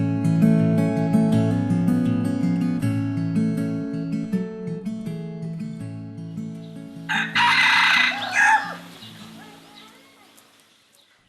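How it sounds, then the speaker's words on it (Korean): A rooster crows loudly in the morning near the end, over music that fills most of the clip. "수탉이 우는 소리에 아침을 맞이합니다"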